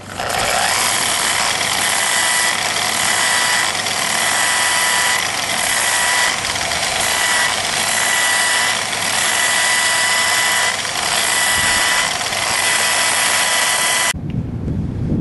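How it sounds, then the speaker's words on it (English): A variable speed sander works an agave didgeridoo mouthpiece, giving a loud, continuous high-pitched whir with rhythmic grinding pulses for about fourteen seconds before cutting off abruptly. "Now I'm going to use this variable speed sander to sand down the mouthpiece"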